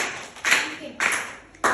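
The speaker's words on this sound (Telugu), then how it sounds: "ఫస్ట్ వసీకర్ క్లాప్స్ కొట్టండి." Three short bursts of clapping from a group of children ring out in a room, each a quick cluster of palms striking together with quiet pauses between.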